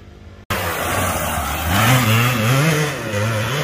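Kawasaki KDX220 trail bike engine revving loudly and close, a steady two-stroke drone whose pitch rises and falls through the throttle after a short quieter opening, with no talk.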